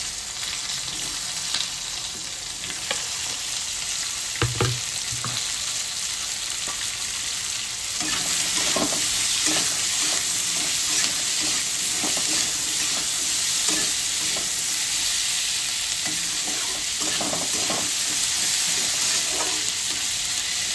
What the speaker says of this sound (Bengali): একটু ভাজা ভাজা হতে থাক, আমি একটু ঢেকে দিই।